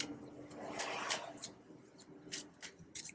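A deck of cards is shuffled in short, faint bursts of riffling and rubbing, irregular and quiet, with no voices.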